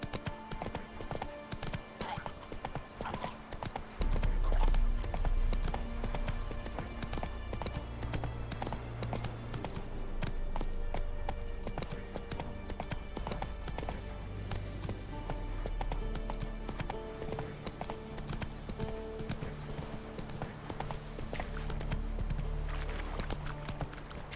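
A horse gallops at a steady clip-clop in The Witcher 3 video game, continuous hoofbeats under game music, with a brief voice at the start.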